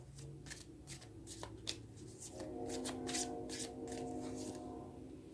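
Tarot cards are shuffled and drawn by hand, giving close, crisp riffling and flicking with a soft rustle, and there is no talking.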